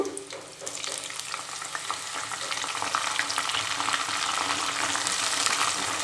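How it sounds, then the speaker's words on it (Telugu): Onions and curry leaves drop into hot oil for a stuffed brinjal curry, bursting into a loud, steady sizzle that swells and keeps crackling, with occasional stirring clicks close by. "ఆయిల్ వేడైందండి ఇందులో ఉల్లిపాయలు వేసుకుందాం అలాగే కొద్దిగా కరివేపాకు"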